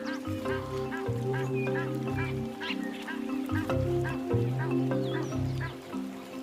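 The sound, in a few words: water birds calling at the Luvuvu river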